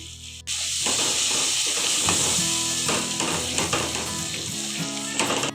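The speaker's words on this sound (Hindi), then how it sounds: "इसको मैं 3 से 4 मिनट तक भून लूँगी।" A loud hiss starts up as ginger garlic paste hits hot oil, then settles into continuous sizzling and popping with some stirring, close and without speech.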